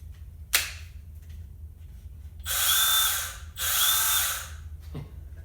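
Milwaukee M12 Fuel 1/2" x 18" bandfile or a 3M mini belt sander running in two bursts of about a second each, a loud, bright whir close by after a sharp click, with quiet pauses between.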